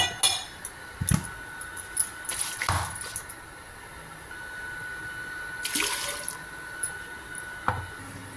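Water splashes and swishes as a mixer-grinder jar is rinsed, with light clinks of glass or metal against a faint background hiss; no one speaks.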